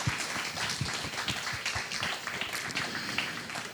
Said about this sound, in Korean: 우리 고3들 위해서 박수 한번 보내주세요.